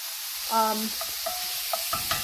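Minced garlic and chopped onions sauté in a pan, a quiet frying crackle with a few brief utensil clinks and scrapes over a soft sizzling hiss.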